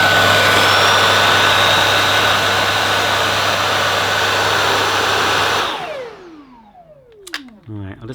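A Dyson Ball DC49 multi-floor ultra compact vacuum cleaner runs with a loud, steady whooshing roar and motor whine, then switches off and winds down to near silence over its last couple of seconds.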